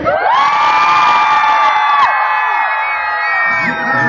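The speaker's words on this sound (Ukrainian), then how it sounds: "А тепер всі люди в фуражках і чоловіки мовчать, кричать тільки дівчата." A crowd of girls at an outdoor gathering in Lviv shouts together on a count, a loud sustained massed cry of many voices that holds, then briefly dips and picks up again.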